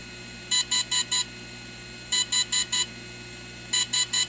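A DJI Phantom 3 drone gives three bursts of four quick high-pitched electronic beeps during a firmware upgrade, evenly spaced and repeated about every one and a half seconds over a faint hum.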